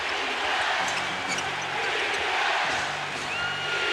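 A crowd at a 1989 NBA Finals basketball game between the Lakers and the Pistons chants and cheers in a loud arena, a continuous roar with rhythmic pulses and the occasional ball bounce beneath it.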